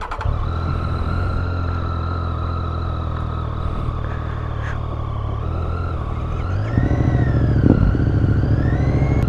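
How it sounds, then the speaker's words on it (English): A Triumph 675 motorcycle engine idles and revs with a steady throaty intake drone, then pitch and volume rise sharply as the throttle opens, close and loud with no talking. "I want to listen to the intake sound. I know it sounds so good."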